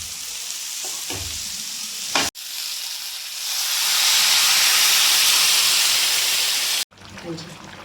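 Raw potatoes fry in hot oil for an aloo nutri sabzi, with a loud continuous sizzle and hiss that swells as they are stirred, broken by two brief pauses and a few scraping sounds.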